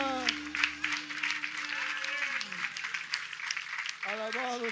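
Church congregation at a Sunday morning service clapping hands in a brisk steady rhythm, held under sustained organ or keyboard tones and singing voices.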